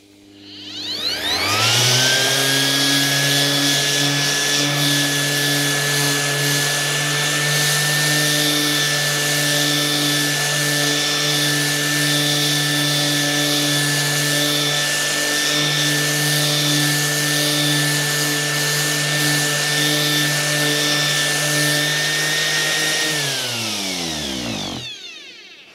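An AEG EX-125-ES random orbital sander running on speed setting 3 spins up, holds a loud, steady motor whine with a sanding hiss for about twenty seconds, then winds down to silence.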